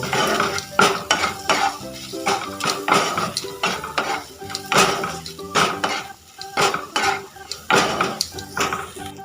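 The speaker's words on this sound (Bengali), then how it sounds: "এবার সব শুকনো মশলাগুলোকে একবার পেঁয়াজ আদা রসুনের সাথে ভালো করে ভেজে নেব" Dry spices fry with onion, ginger and garlic in a pan as a metal utensil stirs and scrapes repeatedly, making loud, close clinks and knocks in an uneven rhythm over a soft sizzle, with no talking.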